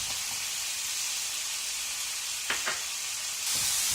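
Chopped tomatoes hit a hot frying pan for a bread and egg masala, a steady bright sizzle hissing throughout with a couple of brief stirring scrapes near the end, no voices.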